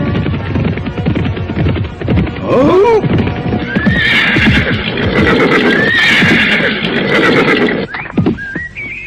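Several horses neigh and whinny over steady clip-clopping hooves, the whinnies rising clearly above a busy, continuous layer of hoofbeats and movement throughout.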